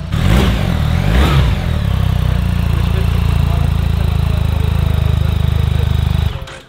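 A 2024 BMW R 1300 GS motorcycle engine fires up with a couple of quick revs, then settles into a loud, steady, throbbing idle close by before cutting off at the end.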